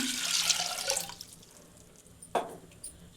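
Water is poured from a small metal jug into a cooking pot for tomato rasam, a brief rushing gush for about a second, then quiet, followed by a single splash and a faint drip.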